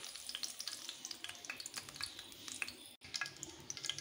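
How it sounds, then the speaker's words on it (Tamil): Fenugreek, mustard seeds and urad dal frying in hot oil for a Tamil brinjal kulambu, crackling and popping in quick irregular bursts close up. "இப்போ வெந்தயம், கடுகு உளுத்தம்பருப்பு இது நல்லா பொரியட்டும்."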